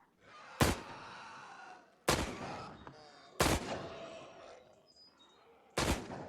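Four loud handgun shots in a video game, spaced irregularly about one to two seconds apart, each a sharp crack followed by a lingering reverberant tail.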